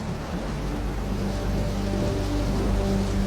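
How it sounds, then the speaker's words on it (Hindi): Steady, heavy rain hisses continuously and loudly, with a faint low tonal hum underneath. "2 दिन से लगातार बारिश हो रही है।"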